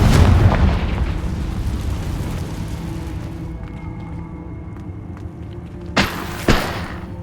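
A heavy Confringo fire-spell explosion in Hogwarts Legacy opens with a loud boom that rumbles and fades over several seconds, followed by two sharp, shorter thuds.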